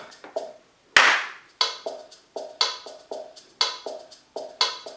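Recorded clap sample triggered on a Casio CTK-2400 sampling keyboard: a loud first hit followed by a rhythmic run of sharp, evenly spaced claps, dry and close with no talk.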